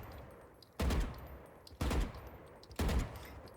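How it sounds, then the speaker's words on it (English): Vandal rifle fire in Valorant: three loud, sharp gunshots evenly spaced about a second apart, each with a short ringing tail. "I'll show you an example right here. See those 2 shots are not impaired by sprinting."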